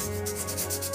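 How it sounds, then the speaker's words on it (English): Painted wood gets a light hand sanding, quick rhythmic rubbing strokes, several in a second, close and fairly soft, with no talking. "we're just going to give it a light sanding because paint raises the fibers"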